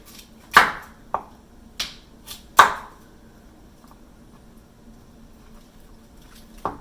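Cauliflower florets snapped apart by hand into big chunks: a few crisp, close snaps and cracks, spaced irregularly over a quiet kitchen hum, with no talking.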